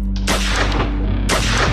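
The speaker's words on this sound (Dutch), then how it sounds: "Dan klinken nog 2 schoten." Two gunshots, apparently from a rifle, ring out inside a house in a dramatized crime reconstruction: sharp, loud blasts about a second apart over a steady low rumble.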